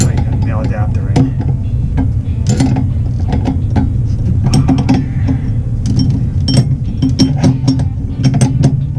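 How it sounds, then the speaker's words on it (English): A wrench clicks and scrapes as it tightens an adapter on a Weil-McLain Aqua Plus boiler pump, with scattered close metallic ratcheting ticks over a steady low hum and some talking. "I just want to snug everything up. Tighten that nail adapter in."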